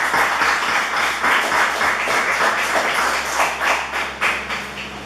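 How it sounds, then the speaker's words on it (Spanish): Steady clapping from a church congregation during a seminar, dense and continuous with a few sharper claps standing out, fairly close and moderately loud throughout. "¿Cuánto le damos aplausos al Señor?"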